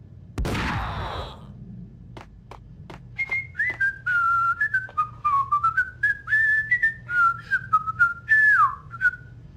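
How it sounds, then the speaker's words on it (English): A character in the PC game Max Payne whistles a casual, wandering tune in short repeated phrases, clear and close, after a sharp gunshot-like burst at the start. "Kills his buddy, starts casually whistling, cause that's fun."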